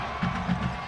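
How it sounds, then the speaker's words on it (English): Roaring crowd noise at a Sachse vs Plano East high school football bi-district playoff game, a steady, dense wash of cheering and shouting with slight swells. "Boy, what a loud crowd."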